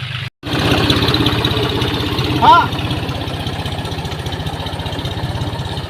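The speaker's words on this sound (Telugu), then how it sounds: "నరసింహన్న తీసుకొని వస్తున్నారు ట్రాక్టర్" A tractor arriving at a field chugs with a steady, pulsing mid-low engine rhythm, close and fairly loud, with a brief higher tone over it midway.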